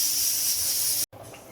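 A pot of prawn and taro root curry boiling hard, giving a steady, loud bubbling hiss that runs without a break, then cuts out briefly near the end before resuming more softly.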